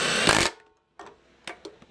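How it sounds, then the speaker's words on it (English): Impact wrench running down reused head bolts on an LQ4 engine during longblock assembly: one loud half-second burst, then a few short, quieter hits after a pause, no talk. "You'll also notice I'm impacting them in. I'm actually just running them down until they're tight"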